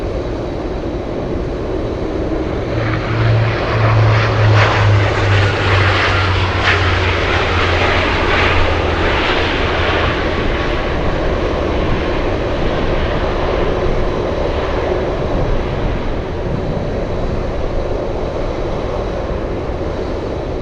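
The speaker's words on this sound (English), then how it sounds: "Okay, so there goes the C-17." A Boeing C-17 military cargo jet passes at Anchorage airport on a gusty day, its loud engine roar swelling and holding before easing off, with a low droning tone early on and wind rumble throughout.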